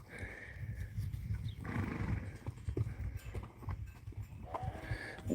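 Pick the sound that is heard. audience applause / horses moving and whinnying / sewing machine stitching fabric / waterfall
horses moving and whinnying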